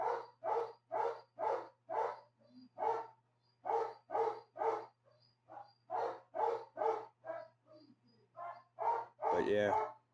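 Zeus, a dog worked up over a female in heat, barks over and over in a fast, insistent rhythm of distinct loud woofs, alone over a faint low hum.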